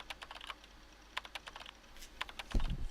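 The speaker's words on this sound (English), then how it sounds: "I opened some word processing software and began typing in my thoughts." Someone types on a computer keyboard in the ChäoS;HEAd game, short clusters of quiet key clicks with small pauses, fairly close, ending in a louder thump.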